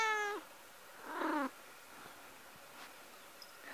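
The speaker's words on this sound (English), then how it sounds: "Tiger, you lazy kitty." A lazy, pregnant house cat gives two drawn-out, whining meows or caterwauls close by, then only faint room noise follows.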